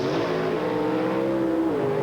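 A drag racing car launches off the line at the 1984 IHRA Northern Nationals in Milan, Michigan, with a loud, steady engine roar whose pitch bends as it accelerates.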